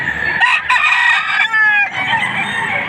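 A rooster crows loudly and close at a chicken sale in Padre Garcia, Batangas, its long strained call broken into repeated bursts with clucking around it and a bustling market crowd behind.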